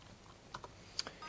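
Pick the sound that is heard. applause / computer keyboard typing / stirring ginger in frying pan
computer keyboard typing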